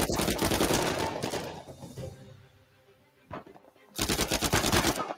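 Rapid automatic gunfire in the video game Uncharted, loud dense bursts at the start and end with a quieter gap between, plus a single sharp shot in the middle.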